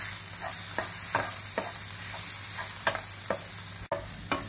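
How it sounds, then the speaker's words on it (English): Capsicum sautéing in a pan while being cooked for gobhi manchurian: a constant soft sizzle with a few spaced scraping stirs of a spoon against the pan, close and alone. "Saute this capsicum for 1 or 2 minutes."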